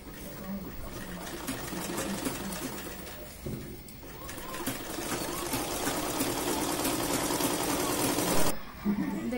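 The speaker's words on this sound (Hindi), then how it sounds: "पांच नंबर सिलाई लगाएंगे।" Sewing machine running steadily while stitching lace onto a blouse, a continuous close whirring rattle that pauses briefly and ends with a short stop.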